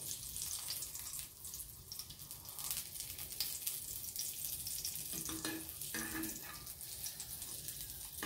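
Hotdog frying in a pan, giving a steady soft sizzle and crackle, close but quiet, with a couple of brief scraping touches near the end.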